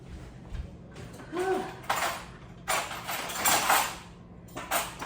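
Metal knife and fork picked up in a home kitchen, several light clinks and scrapes of cutlery against dishes in short bursts, close and fairly quiet.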